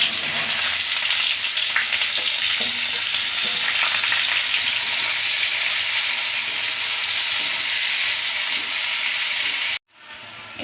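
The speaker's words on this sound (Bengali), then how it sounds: "পেঁয়াজটা লাল করে ভাজা হয়ে গেছে" Chopped onions fry in hot oil with a loud, continuous hiss and crackle, punctuated by faint stirring scrapes, before the sound cuts off abruptly near the end.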